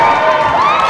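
A crowd cheers and shouts at a relay horse race, a steady wash of many voices with some higher children's shouts rising as the horses come around the final turn.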